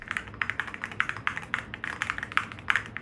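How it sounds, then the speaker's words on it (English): Typing on a mechanical keyboard fitted with Epomaker creamy jade switches and blank ceramic keycaps from Cerakey: quick, close, irregular keystrokes with soft thocky clacks, no voice over them. "I like the way it looks and the sound it makes thanks to the creamy jade switches from Epomaker and the thocky sound the blank ceramic keycaps make from Cerakey"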